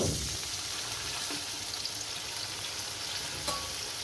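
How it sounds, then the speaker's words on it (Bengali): Ground ginger paste and cumin, coriander and bay leaf paste loosened with a little water hit a hot pan, making a continuous, fairly soft hiss and sizzle throughout with a few faint taps and no talking. "তারপরে দিয়ে দেবো যে আদা বাটাটা আর যে জিরে ধুনে তেজপাতা বেটেছিলাম সেটা সামান্য একটু জল দিয়ে দেবো"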